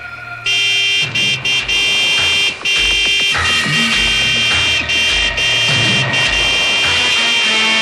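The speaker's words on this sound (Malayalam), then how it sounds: "നീ ഹോൺ അടിച്ച് വണ്ടി വിട്." A vehicle horn in a Malayalam film scene blares loud and nearly continuously for several seconds, with a few short breaks and a busy background mix beneath it.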